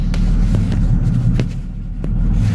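A car drives with a steady, close low engine rumble, a few light clicks and knocks on top, no talking.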